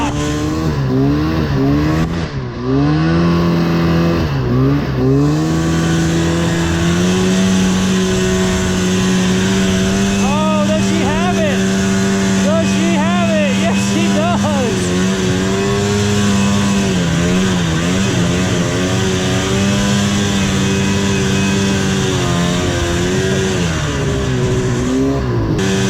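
Vintage snowmobile engine revving steadily at full throttle while riding through soft snow, a loud continuous drone with pitch rising and dipping as the throttle is worked, close and uninterrupted for the whole stretch.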